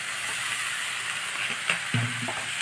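Salted pulao mixture for a pink lunch-box pulao is sautéed in a hot pan: a constant close frying hiss with a few scraping stir strokes near the end, no voices.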